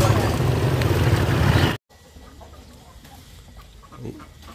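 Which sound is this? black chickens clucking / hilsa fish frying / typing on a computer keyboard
black chickens clucking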